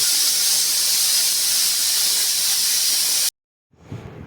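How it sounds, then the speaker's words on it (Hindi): A pressure cooker on a home kitchen stove lets off a loud, sustained hiss of escaping steam for about three seconds. It then cuts off abruptly, and quieter background noise follows. "तो जब तक कुकर में सीटी लग रही"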